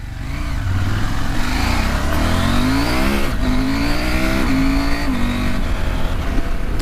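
A 2019 KTM 790 Adventure motorcycle accelerating on a commute, its engine loud and close, revs climbing through several gear changes with steady road noise.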